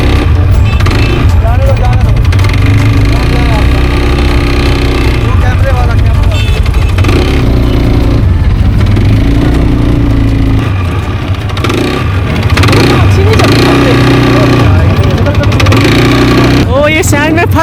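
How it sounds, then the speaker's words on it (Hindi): A quad bike engine revs and strains on desert sand at a Dubai desert safari, loud and close with rising and falling throttle bursts, under almost continuous talking. "ये सैंड में फंस रही है हमारी बाइक।"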